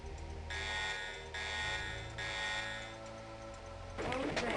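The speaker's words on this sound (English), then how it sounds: "because they always set off alarms" An alarm in the video game Crusader: No Remorse sounds in three loud, evenly spaced electronic pulses over a droning game soundtrack, with no speech.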